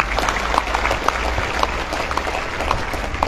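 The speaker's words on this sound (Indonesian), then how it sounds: "Tepuk tangan buat santri." Audience applause fills a gathering of Islamic boarding school students and teachers on National Santri Day, a steady wash of many hands clapping at moderate loudness with occasional sharper claps, continuous for about three seconds.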